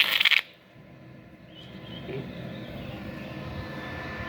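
A multi-process MIG-MMA/TIG welding machine running in scratch-start TIG mode gives a steady, low hiss and hum after a brief clattering burst at the start, continuing evenly and moderately loud.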